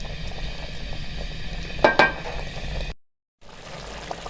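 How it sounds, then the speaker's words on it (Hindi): Chicken karahi cooks in a pan over high heat, a steady sizzle and bubbling as the liquid boils off, with a brief louder burst of spatter midway and a short silent gap near the end. "तेज़ आंच पे हम इसको पकाएंगे ताकि इसकी बनाई भी हमने करनी है और इसका पानी खुश्क हो जाए।"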